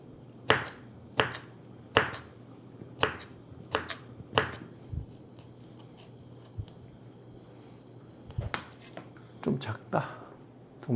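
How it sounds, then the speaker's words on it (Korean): A knife slices dongchimi, a radish water kimchi, thinly on a cutting board, giving sharp evenly spaced chops at first and then a quieter, looser run of cuts near the end, heard close and alone. "동치미 먹을 때도 그냥 나박김치 자르듯이 저는 얇게 잘라서"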